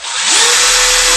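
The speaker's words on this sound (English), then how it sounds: "So we'll go ahead and take our drill bit and we should be able to drill right through." A hand-held power drill spins up with a rising whine and bites through a metal part while installing blind rivets on a general aviation aircraft, loud and close with a steady high-pitched grinding tone.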